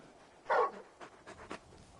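Torgal, a large wolf-like hound in the Final Fantasy XVI video game, gives a short burst of breathy panting up close, followed by a few softer, quicker pants.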